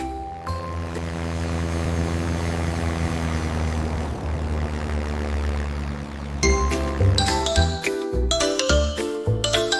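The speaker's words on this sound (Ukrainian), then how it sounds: "Літачок летить у небі" A propeller airplane drones in a cheerful Ukrainian children's cartoon song, a sustained humming engine tone with bright chimes, then the music picks up with rhythmic beats near the end.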